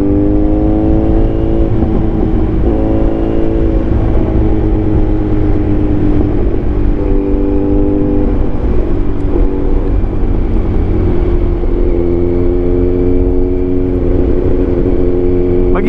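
A Kawasaki Z900 motorcycle fitted with a full exhaust idles and revs close by, its loud, raspy engine note climbing and falling in several repeated throttle blips over a constant rumbling drone.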